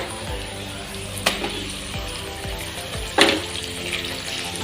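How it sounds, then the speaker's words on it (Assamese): Spiced meat frying in oil in a pan for a home recipe, a steady sizzle with occasional scraping stirs and a couple of sharp clatters, close and alone. "মাংসখিনি দিয়াৰ পাছতে ভালদৰে মই এনেদৰে লৰাই মাংসখিনি ফ্ৰাই কৰি ল'ম"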